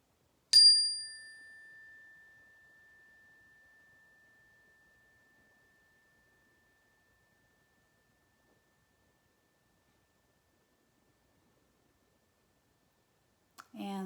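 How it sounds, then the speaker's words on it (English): Single strike of a mindfulness bell, a clear bright ring that fades slowly into long silence, followed at the end by a brief voice. "just listening for the bell"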